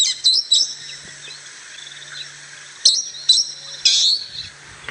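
Several sharp, shrill parrot calls ring out in South African bush at sunrise, coming in short bursts near the start and again in the last two seconds, with quieter birdsong and a faint low hum between them.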